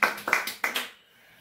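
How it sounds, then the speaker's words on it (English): A handful of sharp hand claps from a small audience cheering for Dad at a live online lockdown party, about six close claps in under a second before they fade into near silence. "Another round of applause for Dad"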